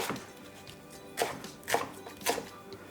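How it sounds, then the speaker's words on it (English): Quiet room tone broken by three evenly spaced knife thuds on a cutting board as shallots are chopped into chunks, crisp and close. "I'm going to cut them into chunks"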